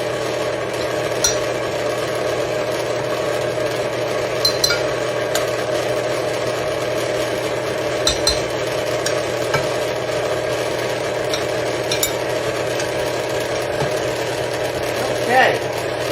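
An electric hand mixer whirs steadily through peanut butter cookie dough made with White Lily flour and baking soda, a constant mid-level motor drone with occasional knocks of the beaters against the bowl.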